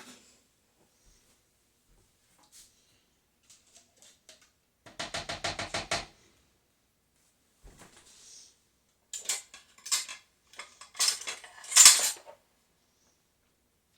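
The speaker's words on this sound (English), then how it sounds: "I will give that a little stir just to mix everything up." A spoon scrapes and clinks against a pot while stirring beef ragu, giving short bursts of rapid metallic taps between quiet gaps, near and fairly soft.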